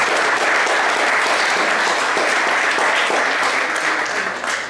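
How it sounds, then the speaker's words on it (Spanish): Audience applause at a talk on Catholic spirituality, a dense steady wash of clapping from many hands that fills the whole stretch and tapers slightly at the end. "Un aplauso, por favor."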